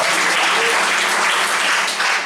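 Dense, loud applause from a church congregation during a worship service, continuous clapping filling the short stretch without a break.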